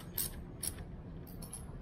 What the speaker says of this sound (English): let us take a 8mm socket wrench and tighten up the nut so that everything is fixed in